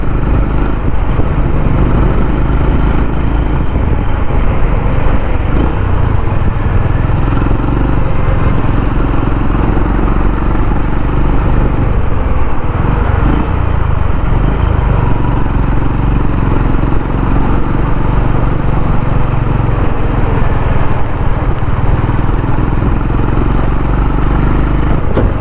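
A new 2025 Honda CB350 RS motorcycle exhaust thumps steadily while riding, a continuous loud rumble with wind noise and no talking.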